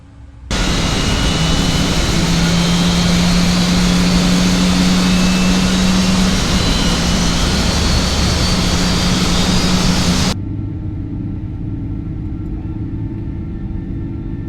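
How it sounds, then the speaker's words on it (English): Boeing 777-200ER jet engine start in the Microsoft Flight Simulator 2024 game, a loud steady rumbling roar with a rising whine that holds for about ten seconds, then drops to a quieter hum. "Starting engine 1."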